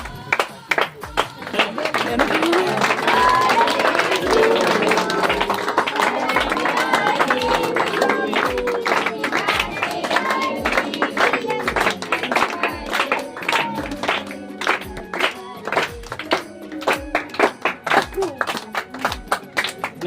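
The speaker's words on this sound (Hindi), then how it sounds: "ताली बजाते रहो, ताली बजाते" A small group at a family home gathering claps in a steady, regular rhythm, loud and close, while people chatter and sing over the beat throughout.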